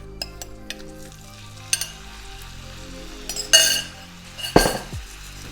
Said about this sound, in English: our oil's heated, so we're gonna go ahead and throw in our steak